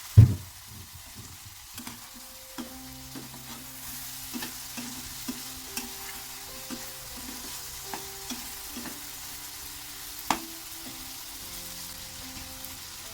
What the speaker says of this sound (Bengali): এখানে দিয়ে দিচ্ছি লটকা শুটকি আর বেগুন।